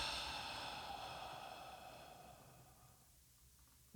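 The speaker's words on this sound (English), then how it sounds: "And then exhale slowly." A slow, steady exhale during a guided breathing exercise, a soft airy breath that gradually fades out, close and alone.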